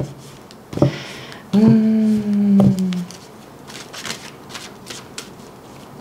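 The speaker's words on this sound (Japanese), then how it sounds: "もう一枚オラクルカードを引かせてください" Oracle cards are shuffled and drawn, with a brisk riffle and slide of the deck, a couple of sharp card snaps, then softer handling and light flicks close by.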